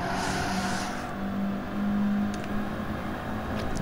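Audi TTRS Cup race car engine on the Nürburgring Nordschleife in Gran Turismo Sport, a steady droning hum with a sustained low tone that swells slightly mid-way, continuous and fairly close throughout.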